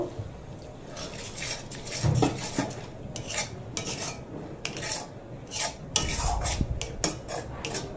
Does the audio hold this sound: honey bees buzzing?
no